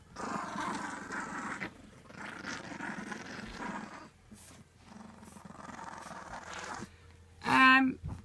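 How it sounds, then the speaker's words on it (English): Five-month-old puppies growl and snarl in bursts while playing tug of war with a toy, close and loud, with short pauses between rumbling growls and a sharper yelp near the end. "Listen to these puppies."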